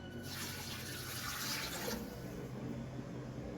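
Water pours from a glass into a pressure cooker of spiced meat and potato curry in a steady rushing stream for about two seconds, then stops, leaving a quiet background.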